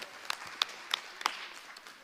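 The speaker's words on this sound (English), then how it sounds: "Would you all just give her a warm round of applause and welcome?" Sparse, light clapping from a small audience at a city council meeting, a handful of scattered claps over a low room murmur.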